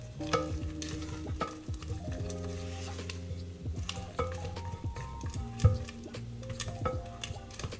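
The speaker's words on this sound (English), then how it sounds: "Just going to quickly scrape down the sides." A spatula scrapes around a mixing bowl of mulled wine brownie batter, giving close, repeated scuffs and knocks against the bowl over steady background music, with no talking.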